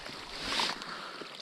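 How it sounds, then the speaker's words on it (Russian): Spring meltwater gushes through an ice-fishing hole on the Pechora River, a continuous rushing, splashing wash of water that swells briefly in the middle. "Целый водопад здесь уже получается"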